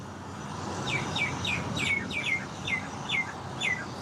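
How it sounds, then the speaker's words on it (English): Small birds chirp repeatedly in quick, high downward-sweeping notes over a soft background hiss, fairly close and clear. "So many birds here."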